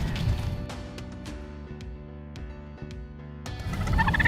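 Wild turkeys gobble in rapid rattling bursts, one close call at the start and louder ones toward the end, with sharp clicks between.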